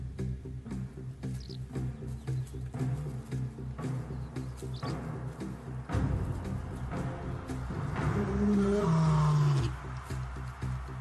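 A wild male lion roars in a series of deep, rhythmic grunting calls, building to louder, longer roars near the end, heard at moderate distance with faint birdsong in the background.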